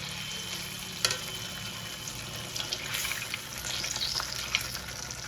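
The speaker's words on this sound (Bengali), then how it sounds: "আমি তেল বসিয়ে দিয়েছি, এবার এটাতে ভাজা হবে।" Pitha cakes fry in hot oil, a steady close sizzle and crackle with a few sharp clinks and brief stirring noises, no speech.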